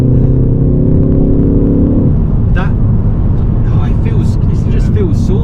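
A 2024 Ford Focus ST Edition engine on a drive, a loud steady drone whose tone drops after about two seconds, with faint voice-like sounds and chatter over the road noise.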